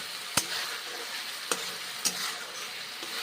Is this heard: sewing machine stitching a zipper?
no